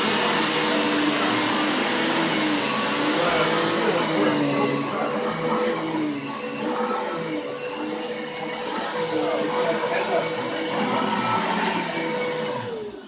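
A Maytag upright vacuum cleaner runs loud and close with a steady whining motor roar, dipping slightly midway and then holding constant with no talking.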